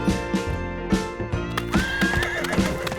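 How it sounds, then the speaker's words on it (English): A cartoon horse neighs and whinnies loudly on a farm, with several rising whinnies over rhythmic clip-clop hoofbeats and bright background music. "Peppa loved watching the horses."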